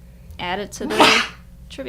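A single close, sharp sneeze from a man between bits of casual speech, a quick burst of breath in the middle of the talk.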